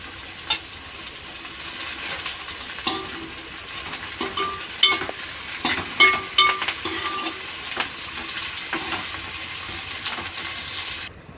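Onions and dried prawns frying in a pan, a steady sizzle with intermittent scraping and stirring clicks throughout, no talking.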